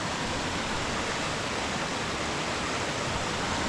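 A river runs along the edge of a farm field, a steady broadband rush of flowing water heard close and loud, constant and unbroken with no voices.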